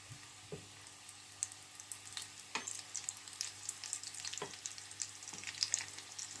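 Veg cutlets frying in oil on a medium flame, a quiet, steady crackle and sizzle with scattered sharp pops and faint stirring clicks, no voices.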